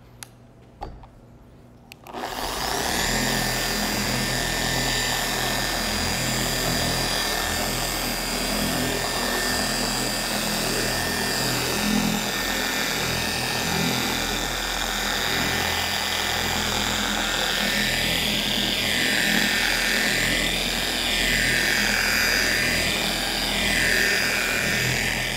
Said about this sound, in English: turn on your DA polisher to speed setting 1 and just give that a nice little work